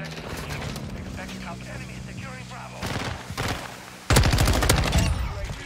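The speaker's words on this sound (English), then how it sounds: "Taking effective fire." Call of Duty: Modern Warfare II multiplayer gunfire, sustained rapid automatic bursts with heavy loud volleys toward the end, mixed with voices and game radio chatter.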